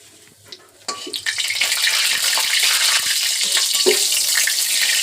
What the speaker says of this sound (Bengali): তেজপাতা পাঁচফোড়ন আর শুকনো লঙ্কা দিয়ে দিলাম